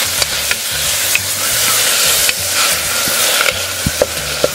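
Spices for roadside-style plain salna, with salt and turmeric, stirred in a hot frying pan: a steady loud sizzle broken by scattered scrapes and taps of the spoon, no voices.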